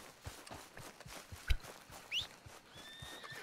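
In Red Dead Redemption 2, a horse gives a quiet, distant whinny over a steady, soft clip-clop of hooves. A sharp thud lands midway, and faint game ambience fills the background.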